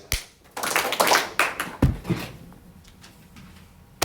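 A class clapping hands in a short rhythmic pattern indoors, a few sharp claps in quick succession followed by scattered quieter claps, close and clear with no talking.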